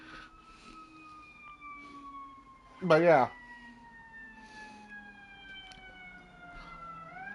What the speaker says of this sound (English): I'm just waiting for that ambulance to go by or fire truck.